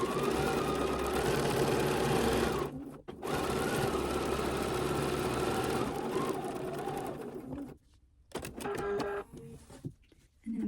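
A sewing machine runs in long, steady whirring bursts, stitching a quarter-inch seam on a scrappy fabric coaster, with short pauses and a few quick stops and starts near the end.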